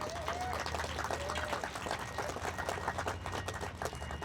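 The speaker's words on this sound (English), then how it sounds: "please give a nice round of applause to our very own Brian McAllister and Mark Cano" Crowd at an outdoor college campus groundbreaking ceremony applauds steadily, a continuous mid-level patter of many hands with a faint low hum underneath.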